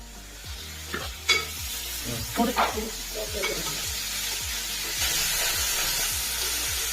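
Tomatoes fry in a pan at home with a soft steady sizzle, while a spoon scrapes and clicks against the pan in irregular stirring strokes, fairly close and quiet.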